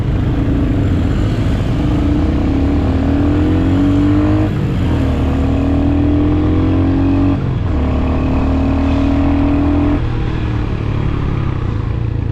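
A Royal Enfield HNTR 350 motorcycle pulls hard up through second and third gear, its engine note rising steadily, then dipping briefly at each shift around the four, seven and ten second marks, loud and close throughout.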